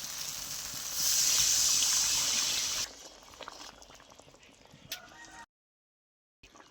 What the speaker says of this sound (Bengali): এবার আমি জল দিয়ে দিচ্ছি পরিমাণ মতো।